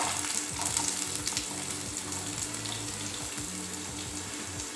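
Chopped onion sizzling in two tablespoons of hot oil in a pan, a loud, dense and steady frying hiss with faint clinks underneath and no speech.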